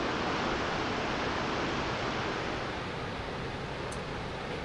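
Takakkaw Falls in Yoho National Park roars as a steady, dense wash of falling water, loud and unbroken from start to finish with no voices.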